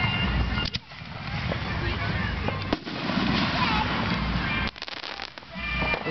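A fireworks show in Marion, Illinois sends out repeated booms and crackling bursts at middling distance, with a few sharp reports standing out above a continuous rumble of crowd and outdoor noise.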